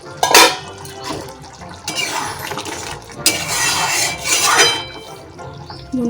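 A lid is lifted off a cooking pot of elephant foot yam and potatoes, with metallic clinks and clatter of pots followed by steamy hiss and bursts of bubbling, close and fairly loud without speech.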